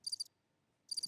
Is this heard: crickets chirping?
yes